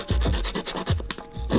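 Outer layer of a charcoal stick scraped off in quick, close, repeated rubbing strokes, a rough scratchy texture with an uneven rhythm and no speech.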